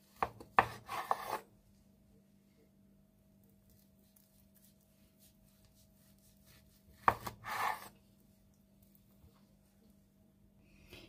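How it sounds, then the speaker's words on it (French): A knife slices through a ham and pig ear terrine in two short rasping bursts separated by a long quiet stretch, close and fairly soft, with no talking. "Et maintenant, je vais couper en tranches."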